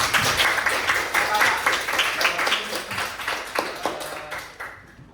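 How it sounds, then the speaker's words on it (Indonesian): A classroom of students claps together, a dense burst of quick applause that keeps going for several seconds, then thins out and fades. "Mana tepuk tangannya semuanya?"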